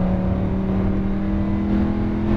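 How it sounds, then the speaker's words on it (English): A Lamborghini Huracan LP610-4 roars under full throttle on a race track, a loud, close, sustained engine tone climbing steadily in pitch without a break. "Now more throttle, now full throttle."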